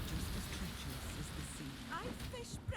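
Rain weather effect from the card game Gwent, a steady hiss of rainfall with a faint rumble of thunder, playing continuously as game background.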